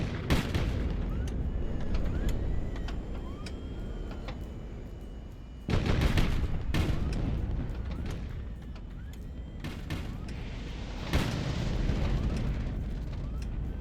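Missiles and rockets fire in a HighFleet battle, with sharp booming launches and explosions landing in clusters over a rumbling background, loud and close, some blasts rapid and overlapping.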